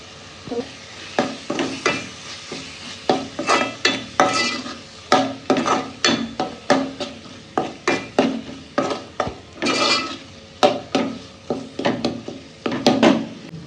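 Masala being stirred into a sizzling crab curry cooked Agri style, with steady scraping strokes of a spoon against the pot over a continuous frying hiss, close and fairly loud, with no talking.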